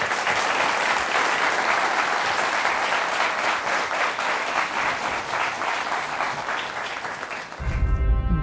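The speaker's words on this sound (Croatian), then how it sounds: "aplauz za gospodina Raguža." Studio audience applauding loudly and steadily on a television talk show, a dense unbroken clatter of clapping that carries on for several seconds before cutting off abruptly near the end.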